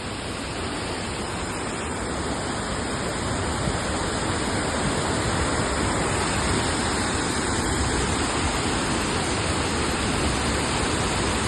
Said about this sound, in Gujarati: દૂધસાગર વોટરફોલ